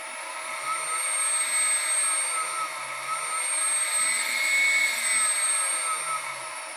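A 2.2 kW spindle on a Millennium Mini Mill runs steadily at low RPM, giving a close, continuous high-pitched whine with a faint motor hum and a slight rise and fall in level.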